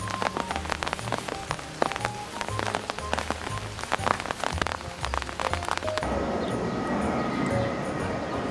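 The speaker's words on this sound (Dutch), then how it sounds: "Het is weer flink gaan regenen." Heavy rain pours steadily on a hillside town in Malta, a dense continuous patter of drops striking surfaces nearby, loud and unbroken, with the texture shifting to a smoother hiss partway through.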